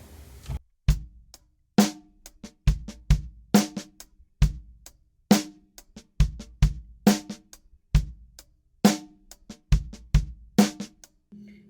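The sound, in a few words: drum groove with snare ghost notes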